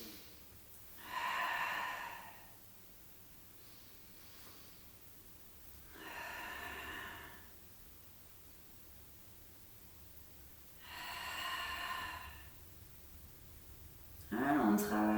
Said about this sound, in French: Expire, monte. Inspire, reviens.